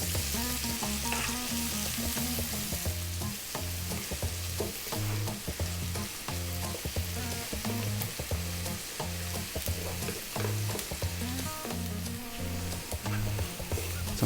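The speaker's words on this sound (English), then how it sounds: "we're going to drop in the onion. And we're on and above medium heat." Onions sizzle in a pan over medium heat as a steady crackling hiss with a rhythmic low pulsing underneath, close and even throughout.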